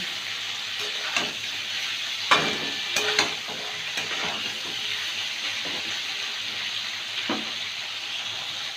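Peas and green chillies frying over medium heat for a vegetable dal, a steady close sizzle with a few louder clatters and scrapes as a spoon stirs them, no talk.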